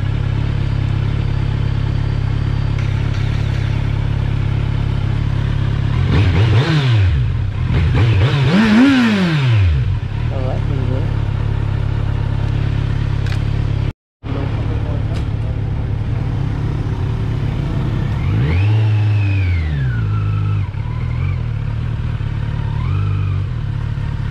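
A 2020 Kawasaki Z900 motorcycle engine drones steadily while riding at low speed, with a couple of brief revs rising and falling, and a voice speaking in between.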